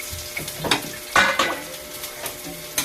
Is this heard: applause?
no